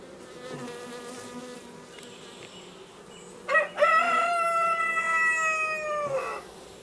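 Honey bees hum in a low, continuous drone around a Cedar National hive and nucs at Mantel Farm, while a rooster crows loudly partway through.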